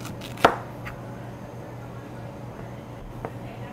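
A kitchen knife strikes a cutting board in one sharp chop, followed by a couple of fainter taps, over a steady low hum during a knife-skills demonstration at a farm show.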